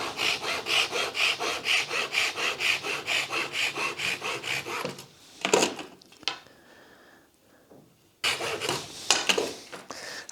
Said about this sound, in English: Just cut a bit of the sapele dowel